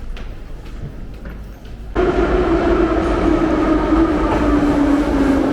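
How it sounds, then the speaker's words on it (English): A metro train rolls into Oybek station in Tashkent, Uzbekistan, with a sudden loud rush, then a steady rumble and a whining motor tone that slowly drops in pitch. "This is our train."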